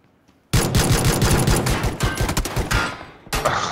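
Rapid gunfire in PlayerUnknown's Battlegrounds: after a near-silent start, a loud close burst of fast automatic shots runs about three seconds, breaks off briefly, then resumes.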